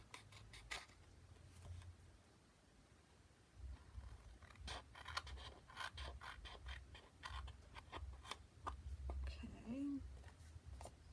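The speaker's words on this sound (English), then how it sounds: "I'm just going to use my scissors, and any part that is sticking out, that's the part that's getting cut off." A few sharp, quick snips of scissors trimming paper edges, close by, with soft rustling and handling noise between cuts.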